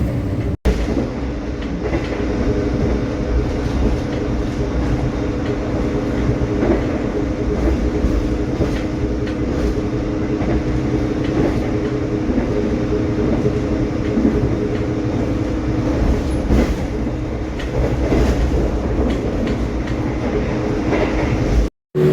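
An executive-class passenger train on the Gambir to Jogja run rolls along the rails, a steady rumble with rhythmic clickety-clack of the wheels heard from inside the carriage, with a couple of sharp knocks along the way.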